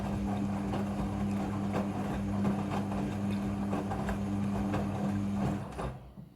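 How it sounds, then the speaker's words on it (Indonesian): A Midea front-loading washing machine on its rinse cycle, giving a steady low hum with sloshing and mechanical rumble, close and continuous before cutting off near the end. "Mesin cuci front loading sudah full automatic dalam mencuci."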